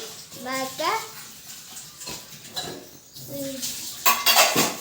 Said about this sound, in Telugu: సామాన్ కడుతుంది